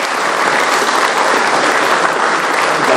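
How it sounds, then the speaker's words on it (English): A large audience at a corporate welcome event for graduate executive trainees applauds a batch topper, steady dense clapping, loud and sustained throughout. "A big round of applause for her."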